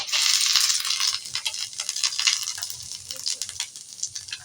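A bay leaf, a small piece of cinnamon and black pepper sizzle in hot oil in a pan, a close, steady hiss and crackle with stirring scrapes throughout.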